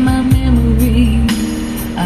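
Music plays through the speakers of an Android head unit in a 2016 Toyota Avanza, loud and full with steady bass and a sustained tone, heard from inside the car.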